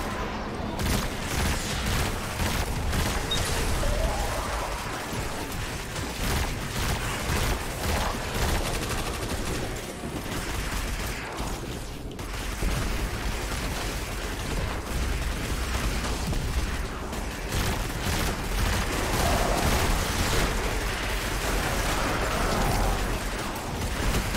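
Kinetic weapon fire in the video game Destiny 2 comes as a dense, continuous barrage of shots and booms, loud and unbroken throughout, with no clear talk.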